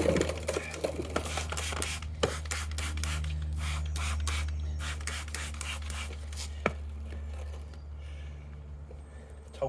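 Water sprays over the wheel arch and tyre of a VW Golf R during a snow foam car wash, a continuous hissing jet with a low pump rumble beneath and brief spattering bursts.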